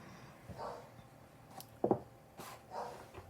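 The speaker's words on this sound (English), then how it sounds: "in the background, you may hear my precious bulldog barking" A bulldog barks faintly in the background, a few short, distant yelps and whimpers scattered over a quiet room noise.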